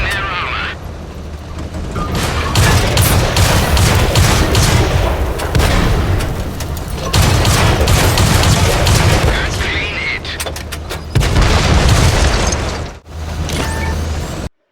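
Tank cannons fire in World of Tanks during a console battle: heavy booming blasts over a constant loud engine rumble, with sharp shots and rattling impacts spread through the clip.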